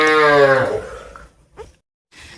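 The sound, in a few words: cow mooing on a village farm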